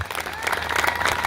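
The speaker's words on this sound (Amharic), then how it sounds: "አጨብጭቡለት ለጌታ" A church congregation bursts into dense, sustained applause for the Lord, many hands clapping close and loud for about a second with no pause.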